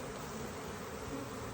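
A dense, steady buzzing drone of many honey bees around a hive fills the whole moment, continuous and close with no pauses.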